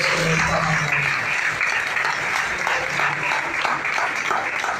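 A church congregation at a Sunday family service claps in praise, a sustained even wash of applause with faint low tones beneath, heard alone without talk.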